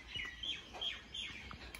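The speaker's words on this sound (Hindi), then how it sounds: "यहाँ पर अभी गाइस पक्षियों का आवाज़ आप सुन सकते हो।" Birds chirping in short, bright repeated calls, moderately faint over a soft outdoor background, with no one talking.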